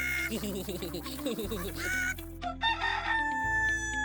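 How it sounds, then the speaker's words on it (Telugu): Roosters crow loudly amid agitated clucking and squawking as chickens flap in fear, a flurry of panicked fowl calls with no talking. "మిగతా కోళ్లు భయంతో అటూ ఇటూ రెపరెపలాడాయి"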